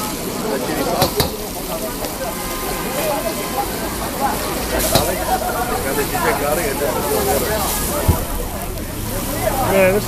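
Food stir-frying in fresh oil with chili sauce at a Shanghai street food stall, a steady loud sizzle with scraping and clanking of the wok, while people talk over the cooking.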